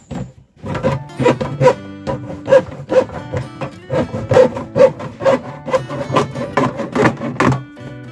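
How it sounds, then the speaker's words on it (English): A handsaw cuts along a line with steady back-and-forth strokes that rasp through the material in a close, even rhythm, with no talking. "you get the handsaw inside and start cutting that line straight around"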